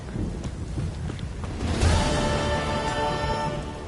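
Heavy rain hisses steadily in The Witcher 3: Wild Hunt while a deep roll of thunder swells midway and rumbles on under the downpour.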